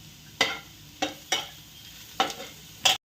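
A quick vegetable stir-fry seasoned with Kashmiri red chilli being stirred in a pan, with five sharp scraping strokes at uneven intervals over a faint background sizzle, close and quiet, no talking.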